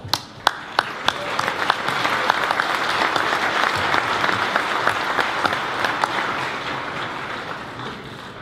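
A crowd applauding at the Anthony Joshua versus Wladimir Klitschko boxing press conference, a dense, sustained wash of clapping that swells and holds, with a few sharp claps at the start.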